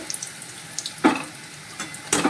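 Coconut fritters fry in hot oil with a soft, continuous sizzle, close by, punctuated by two sharper bursts of spattering or utensil clatter.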